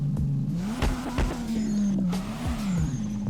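A BMW E36 engine in the drifting video game Drift21, revving steadily with a wavering mid-range tone and scattered tire squeal and skid sounds, loud and close with no voices.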